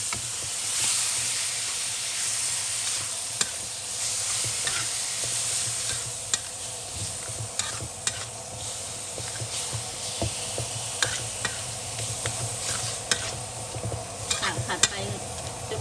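Minced pork with a little water stir-fried in a pan, a continuous soft sizzle broken by frequent sharp clicks and scrapes of the spatula, moderately close and fairly quiet, with no talking.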